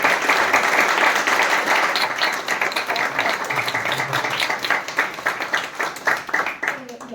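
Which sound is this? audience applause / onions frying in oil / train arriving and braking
audience applause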